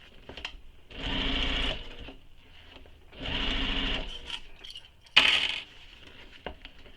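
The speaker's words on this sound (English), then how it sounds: "Now my gusset is against the bed of the machine, so I have to be careful when I'm sewing" A sewing machine stitches a circular bag gusset in three short bursts separated by pauses, close and moderately loud, with light handling clicks between runs.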